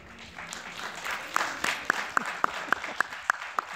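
Conference audience at a talk on theoretical art clapping, starting as a scattered mix and settling into a run of sharp, evenly spaced claps near the end, moderately close.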